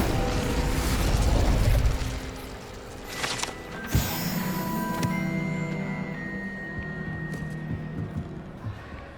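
Incendio fire spell cast in Hogwarts Legacy: a rushing, roaring burst of flame swells over the first two seconds, followed by a sharp crack and a lingering, tonal magical shimmer.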